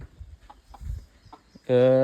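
A village country rooster near Jambhe Dam, between Shahapur and Murbad, gives a sudden loud, tonal call at the very end, after a stretch of faint scattered sounds and low voices.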